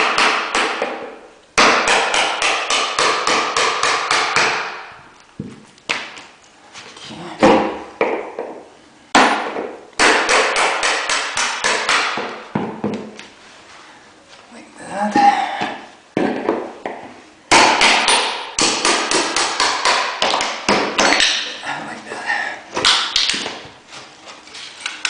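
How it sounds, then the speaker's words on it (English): Hammering on laminate floor boards being removed from a room: bursts of rapid, loud, sharp strikes, separated by brief pauses and scattered single knocks, close by and without talk. "and use hammer."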